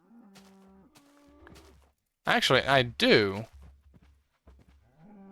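Cows in a Minecraft-style video game let out two loud, drawn-out moos mid-clip, bracketed by quieter in-game tones and a brief spoken remark.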